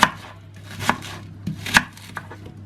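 A knife chops an onion on a cutting board, a handful of uneven thuds close up with quiet pauses between.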